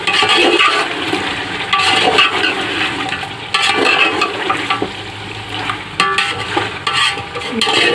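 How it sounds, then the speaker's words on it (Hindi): Chicken and onions fry loudly in a karahi pan. Close, continuous sizzling carries repeated scraping and stirring strokes, and there is no talking. "प्याज के साथ चिकन को भी फ्राई कर लेंगे अच्छी तरह से। प्याज फ्राई हो रहे हैं।"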